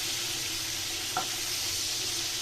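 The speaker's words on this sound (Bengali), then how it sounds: "আমার চিংড়িগুলো ভাজা হয়ে গেছে, দেখো আমি কিন্তু চিংড়িগুলোকে তুলে নিচ্ছি" Prawns fry in oil in a pan for prawn malai curry, giving a steady, close hiss of sizzling with one brief clink partway through and no talking.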